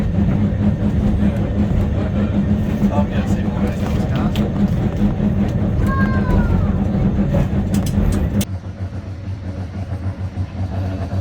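Heritage tram rolling along tracks in Ballarat, a steady loud rumble with faint wheel squeal partway through, then the noise drops off near the end.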